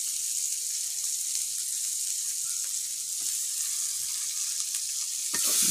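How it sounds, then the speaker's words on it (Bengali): Whole chilies sizzling and frying in a hot pan with meat cooking to follow, producing a loud, steady hiss with a few faint clicks and a brief louder spatter near the end. "মরিচগুলো দিয়ে দিই, গোটা মরিচ।"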